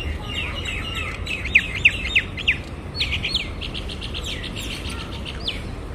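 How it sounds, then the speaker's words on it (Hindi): Birds chirp on a morning, with several sharp, bright tweets clustered near the start and softer calls continuing throughout over a steady low background hum, without talk. "ये चिड़िया की चहचहाहट जो है वो सुन सकें।"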